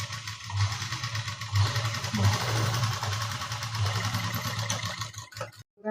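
A sewing machine sews a press stitch along fabric with a steady, softly pulsing mechanical whir at moderate volume, then stops abruptly.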